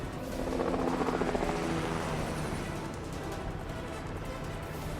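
Helicopter flying over jungle in a movie scene, its rotor thudding in a steady rapid chop that is loud at first and then eases into a continuous drone, with no talk over it.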